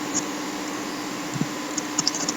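Quiet computer keyboard typing while code is written in a Jupyter Notebook, a few soft scattered key clicks over a steady background hiss.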